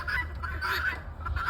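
Harsh, honking bird calls repeat through the clip over a low rumble of background noise, loud and fairly close.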